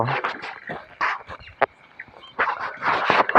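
A farm dog barks in several short bursts, close and fairly loud, with pauses between the barks and a faint whimper or yip in one gap.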